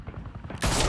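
A gunshot in the Batman Telltale Series video game, a sudden loud crack bursting in after a quieter rumbling lead-in and ringing on to the end.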